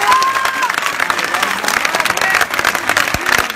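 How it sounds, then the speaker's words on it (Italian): A crowd applauds at a Movimento 5 Stelle political rally in Naples, dense steady clapping with some voices and shouts mixed in throughout. "Qui voglio fare un grande applauso."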